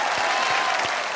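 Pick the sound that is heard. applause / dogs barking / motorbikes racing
applause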